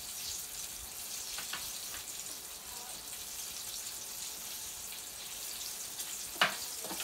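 Turkey chops frying in a pan give a steady, moderate sizzle that runs throughout, with a few brief clanks and a sharper clatter near the end.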